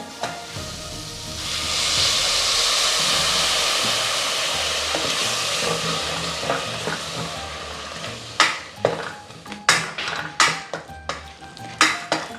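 Tomatoes sauté in a steel cooker with a little added water while making Kerala beef mappas, giving a continuous soft sizzle, then a run of close, uneven metallic scrapes and clinks as a spoon stirs the pan.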